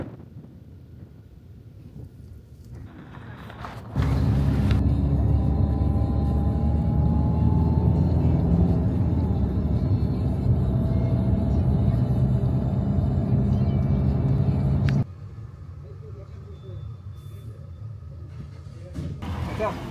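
A car drives along a road, its engine and tyre rumble swelling loud for several seconds before dropping back to quieter cabin noise, with some talk mixed in.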